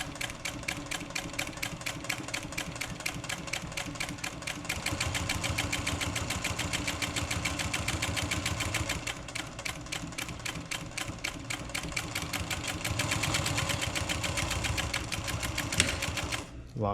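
A sewing machine stitches out a turned collar seam in a fast, steady mechanical rattle that runs continuously and close up, with slight surges in speed.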